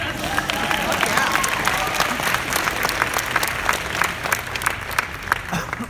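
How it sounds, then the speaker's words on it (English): Audience at a fan convention panel bursts into sustained, lively applause with crowd murmur mixed in, dense clapping holding steady for about six seconds. "Yeah, you can applaud that."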